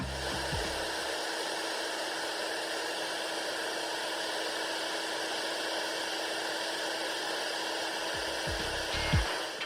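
Steady, loud hiss and blowing of a hot-air plastic welder joining ABS plastic with an ABS rod on a motorcycle part. It runs without pause and ends with a few faint knocks.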